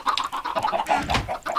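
Minecraft chickens from the Agricraft mod keep up busy, overlapping clucks close at hand, with a scratchy rustle through the middle.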